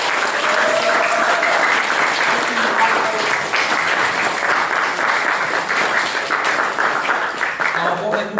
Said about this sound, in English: just a general round of applause for everyone in the audience behind the scenes